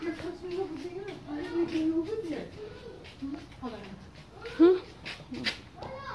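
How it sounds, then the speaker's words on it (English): An abandoned dog whimpers and cries in soft, broken whines, mixed with voices talking nearby at a derelict old home. "Is this the dog I heard crying?"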